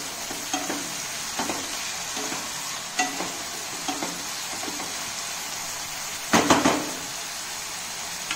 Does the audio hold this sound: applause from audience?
no